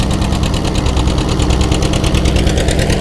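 A Ford Model 800 tractor pulling a two-bottom plow at a mule and tractor plow day, its engine a loud, close, steady chugging rumble with a fast regular pulse and no pauses.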